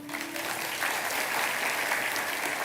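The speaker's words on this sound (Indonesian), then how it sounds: "Yang percaya kasih tepuk tangan tuh Tuhan." A church congregation applauds during a sermon, a steady wash of clapping from a large crowd lasting a few seconds, moderately quiet and even.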